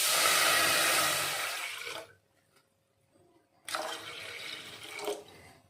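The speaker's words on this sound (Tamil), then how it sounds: "இதில் தண்ணி ஊற்றிக்கலாம்." Water is poured into a cooking pot for sago in two splashy, rushing bursts, each lasting a couple of seconds, separated by a short quiet pause.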